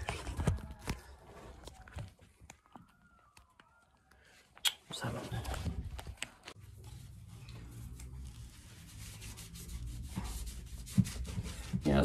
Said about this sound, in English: I'm going to have to clean up that surface rust. Just get some wire wool.